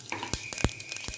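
Mustard seeds and cumin spit and crackle in hot oil for a sambar tempering, a close run of sharp pops and sizzles with one louder burst near the middle.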